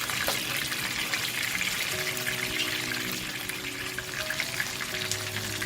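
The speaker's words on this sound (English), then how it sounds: "flip the fish over the other side and fry the flip side" Pomfret fish fries in hot oil with a steady, dense sizzle and crackle that holds for the whole stretch, close up, a faint low hum running beneath it and no voices.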